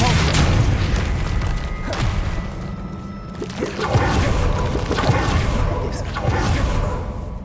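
Incendio fire spell cast in the video game Hogwarts Legacy, a run of loud booming, whooshing fire bursts and thuds layered over dense game effects and a voice.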